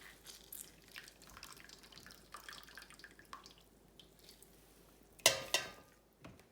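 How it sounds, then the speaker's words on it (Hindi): Water is squeezed by hand from salted grated radish, giving quiet drips and soft trickles, then a couple of sharper splashes near the end. "इन सब का एक बार फिर वाटर निकालना है।"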